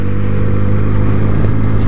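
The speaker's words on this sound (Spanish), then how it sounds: "se le nota la Benelli TNT 300, es una moto muy, muy potente" A Benelli TNT 300 motorcycle engine runs loud and close, a dense, steady throaty drone with a slight rise in pitch as it pulls, heard alone without voices.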